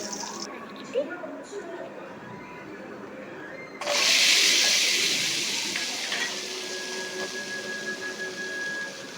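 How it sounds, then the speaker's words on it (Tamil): Shallots and garlic sautéing in hot oil with fenugreek seeds, a sudden loud sizzle bursting in partway through and then settling into a steady hiss, with stirring and small kitchen noises before it. "எண்ணெய் ஊற்றி வெந்தயம் போட்டு தாளிச்சிட்டு உரித்து வச்சுருக்க சின்ன வெங்காயம் பூண்டு போட்டு நல்லா வதக்குவோம்"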